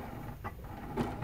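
A sewing machine runs a few quick back stitches on a quilt at the bias tape border, making a brief close mechanical whirr with soft thumping ticks.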